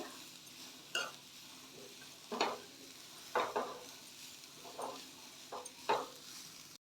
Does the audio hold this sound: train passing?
no